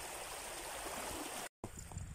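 A river stream runs steadily with a broad, even wash of flowing water, briefly cut off before resuming alone with no voices.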